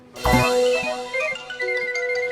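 A telephone rings close by with a single bright electronic tone that rises sharply, then pulses on with several fainter repeated chimes.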